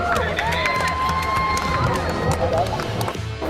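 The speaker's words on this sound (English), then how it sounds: "let's give a round of applause for both the teams" An audience cheers and claps for two competing teams, with loud shouting voices and whoops, some sounding like children, over a dense, steady wash of crowd noise.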